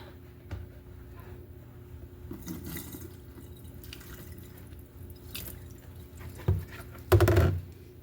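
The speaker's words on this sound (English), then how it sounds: "I'm going to flip it over and rinse off the other end" Water rinses over a lace wig under a tap, a soft steady trickle with intermittent splashes and a louder burst of running water near the end, fairly quiet and close.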